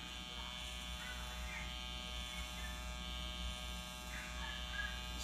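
Electric hair clipper trimming facial hair, a steady close buzzing drone that runs continuously without pause.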